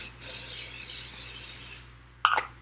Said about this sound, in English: so I'm just going to go ahead and spray this stencil very quickly